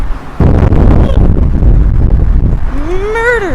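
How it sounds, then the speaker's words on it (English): Strong wind blows along a Chicago street near Clinton Street, roaring and buffeting the microphone with deep rumbles, and a voice rises briefly near the end. "Murderously windy."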